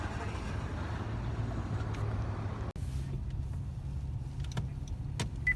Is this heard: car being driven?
yes